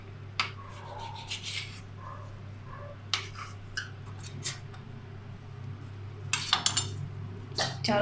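A knife cuts through stacked samosa pastry sheets on all four sides, producing several brief scraping, clinking strokes against a board or plate, clustered in short bursts over a low steady background hum.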